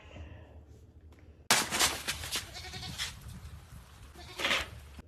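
A person mimics a goat's bleat, breaking in suddenly after a quiet start with a loud, wavering, close cry and a second shorter bleat near the end.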